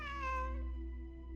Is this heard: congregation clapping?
no